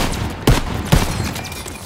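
Call of Duty WWII gunfire in a wartime woodland battle: two sharp, loud gunshots about half a second apart over a noisy background of distant battle.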